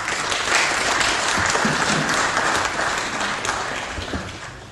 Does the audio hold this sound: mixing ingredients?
no